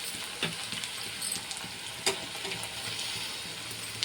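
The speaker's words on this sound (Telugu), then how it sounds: "ఓకే ఫ్రెండ్స్, ఆనియన్ బాగా ఫ్రై అయింది కదా" Onions frying in a pan for drumstick curry, a steady broadband sizzle with a few soft stirring clicks and scrapes, close and continuous with no voices.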